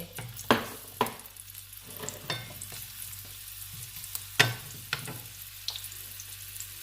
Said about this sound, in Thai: น้ำมันดีดไปนู่นเลย